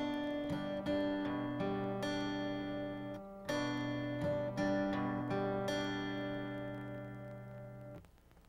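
A song on acoustic guitar, mixing plucked string pairs with light strums in a flowing rhythmic pattern, played close and clean with ringing notes and a short gap near the middle before the final chord fades out.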